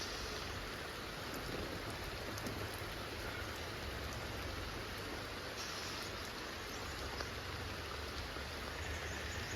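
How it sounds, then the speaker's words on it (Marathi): Steady rain pours during the first stormy monsoon downpour in the Konkan, a dense, even wash of drops on surfaces heard from a sheltered porch, unbroken and without voices. "आजच पाऊस पडला आहे."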